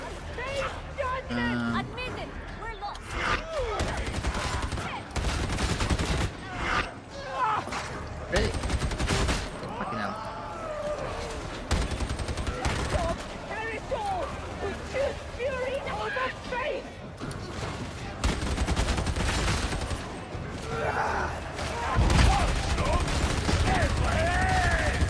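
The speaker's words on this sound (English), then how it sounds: "The rapid fire in this situation is really good." Rapid gunfire in the Warhammer 40,000: Darktide video game, sustained bursts of automatic shots over a long stretch, mixed with game effects and people talking over it.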